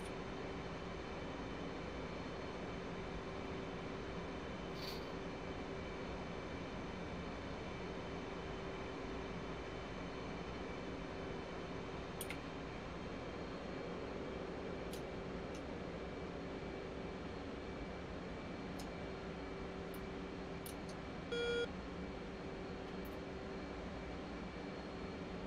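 A jet idles and taxis in a VR flight combat sim, a low, steady engine drone with a constant whine, faint and unbroken, with occasional small clicks over it.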